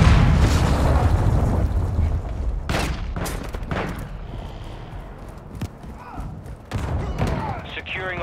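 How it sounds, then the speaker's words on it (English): Cruise missile strike in the multiplayer shooter Call of Duty Modern Warfare II: heavy booming explosions and rumbling blasts with gunfire mixed in, under in-game voice chatter, continuing across several seconds. "Hostiles launched a cruise missile"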